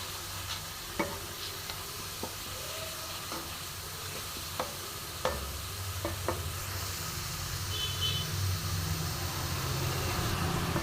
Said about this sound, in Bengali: আর একটু মশলাটা কষে নেবো ভালো করে